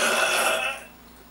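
A single loud burp follows a swig of Rockstar Mango Orange energy drink, a close, raspy eructation lasting well under a second before trailing off into quiet.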